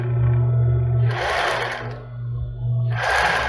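A straight-stitch sewing machine runs a zigzag at the end of a seam on a thong, its steady motor hum broken by two loud bursts of rapid stitching close by.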